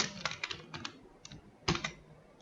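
Close, quiet clicking of keys on a computer keyboard, a short irregular run of taps ending with a slightly louder double keystroke, with no talk.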